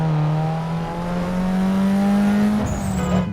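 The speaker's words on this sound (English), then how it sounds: "Oh, listen to that turbo." A turbocharged car engine in Need for Speed Underground 2 drones steadily, its pitch rising gradually, then a brief whistling turbo chirp from the wastegate as it shifts.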